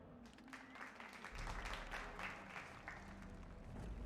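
Applause from an in-game crowd in Dragon Age: Origins: a steady, moderately loud wash of clapping that swells after the first second and holds without a break.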